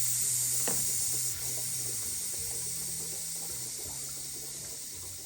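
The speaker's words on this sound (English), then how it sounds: "Sounds like there's still some coolant in there." Coolant sloshes and hisses inside a Ski-Doo 850 snowmobile heat exchanger during a repair, a steady watery spray with a few faint knocks, close and fairly quiet.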